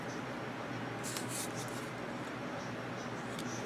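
Scissors snip through patterned craft paper while a wedding mini album is assembled, a few soft, quick crisp cuts close by against a quiet room hiss.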